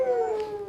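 A dog howls in an AI-generated Sora 2 scene, a single sustained, wavering tone that slides slightly downward, heard alone and fairly close.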